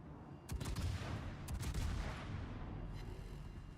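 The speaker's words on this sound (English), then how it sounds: "torpedo hits!" Torpedo hits in the World of Warships naval combat game: two or three heavy, booming blasts with rumbling, explosive low end, following each other across a few seconds over steady battle noise.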